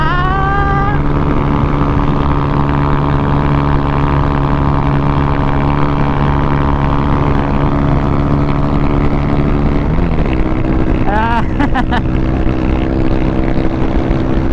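A Honda Click 125 scooter engine runs steadily at a constant drone, loud and close, with a brief rev change near the end.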